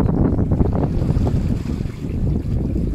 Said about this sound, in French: Tu vois, ça s'entend derrière avec les mouvements d'eau